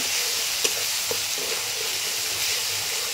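Spice paste with cumin and coriander powder fries in a pan for a Bengali basa fish curry, a dense steady sizzle with a few soft scrapes of a spatula stirring, close and without talk.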